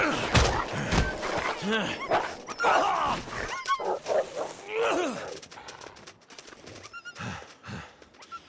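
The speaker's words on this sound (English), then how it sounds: "Bad dog. Go away." Dog barking in The Long Dark survival video game, a few short barks mixed with game sound effects and someone talking over them.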